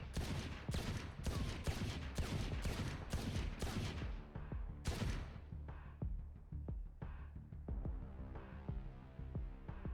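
Rapid gunfire from the Sheriff pistol in the Valorant video game: a quick run of about eight loud, sharp shots over four seconds, then one more shot and fading echoing tails, with no talking.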